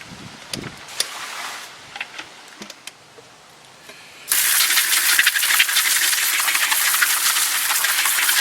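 Water is poured out of a bucket holding Lake Superior agates, starting after a few light knocks and rattles of stones and becoming a loud, steady rushing splash that lasts to the end.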